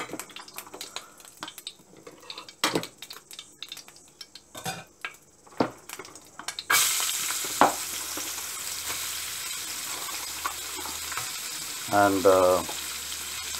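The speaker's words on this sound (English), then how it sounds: "I'm going to fry the vegetables." Vegetables, starting with carrot, hit hot chili oil in a pan and break into a loud steady sizzle after a stretch of quieter kitchen clatter, with a brief metallic scrape of a utensil near the end.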